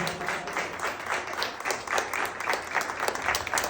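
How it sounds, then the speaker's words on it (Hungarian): Audience applause at a party, a fairly small crowd clapping in an uneven, pulsing patter at moderate loudness throughout. "két keze munkája után nagy tapsot neki először, és egy tapsot kezdjük az egészet"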